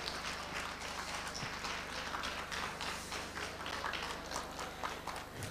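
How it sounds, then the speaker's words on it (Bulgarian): Audience applause at a 1999 live stage show in Varna, a dense, steady wash of many hands clapping that holds evenly throughout with no voices over it. "Аплодисменти за нея!"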